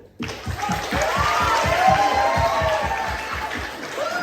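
Audience applause at a talent evening, with rhythmic group clapping in a steady beat filling the room, plus some crowd noise and a voice over it.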